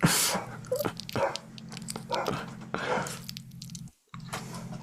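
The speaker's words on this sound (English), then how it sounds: "We love the pooches here." Dogs barking indoors, several sharp barks in irregular bursts close by, with loud rustling and handling noise, a brief dropout near the end.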